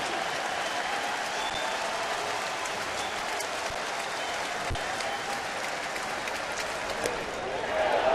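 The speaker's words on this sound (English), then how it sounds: "It is a loud, boisterous crowd." A loud, boisterous baseball stadium crowd at a Yankees game in Baltimore keeps up a continuous roar of applause and cheering, swelling slightly toward the end.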